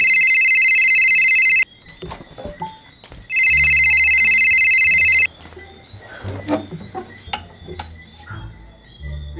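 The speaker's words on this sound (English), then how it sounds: "Phone are ringing up." A phone's ringtone rings loudly and alone in two long bursts, each a steady electronic tone about two seconds long with a pause between, then gives way to clattering and voices.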